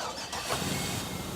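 A 1953 Chevy truck engine cranks and catches, settling into a steady mid-pitched idle, heard up close at an outdoor car show.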